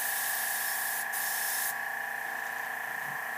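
An airbrush sprays paint onto the hair of a painted female warrior, giving a steady, soft, close hiss that breaks off briefly and then continues.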